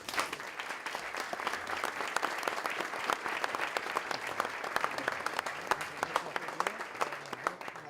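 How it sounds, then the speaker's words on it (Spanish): Sustained audience applause welcoming an honorary doctor at a university ceremony, a fairly faint, distant crowd of clapping hands with individual claps standing out throughout. "Lo recibimos con un fuerte aplauso."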